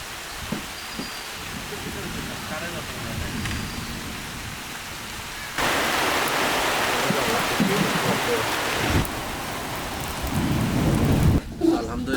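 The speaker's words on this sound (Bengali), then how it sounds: "বৃষ্টি একদম জোরে নেমে গেছে" Steady heavy rain pours down in a dense hiss that grows louder partway through, with a low rumble underneath.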